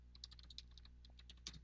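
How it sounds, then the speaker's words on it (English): Someone is typing on a computer keyboard, a faint run of quick, irregular key clicks over a low background hum. Nobody talks. "I just heard you typing."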